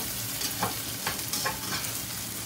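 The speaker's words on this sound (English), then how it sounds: "The crust is developing like I want. And we are frying it up." Old-fashioned southern fried corn sizzles and crackles steadily in a pan, with occasional scraping stirs, close and continuous with no voices.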